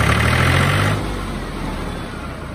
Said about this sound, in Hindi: और भाई लिंक जैक फिट हो जाए स्टार्ट। Martial silent model